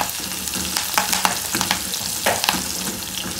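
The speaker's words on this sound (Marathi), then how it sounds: "त्याच्यानंतर ह्याच्यामध्ये घालायची आहेत कढीपत्त्याची पानं" Curry leaves crackle and sizzle in a hot oil tempering, giving a close, busy spatter with irregular sharp pops over a continuous frying hiss and no voices.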